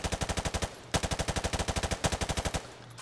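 Rapid automatic fire from an M4 carbine in Call of Duty Modern Warfare Remastered, loud, close bursts of evenly spaced shots with two brief pauses between them.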